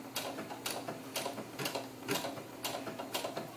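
Sewing machine stitching racing stripes on doll clothes, a quiet steady mechanical whir with regular rhythmic clicks about twice a second, close and alone.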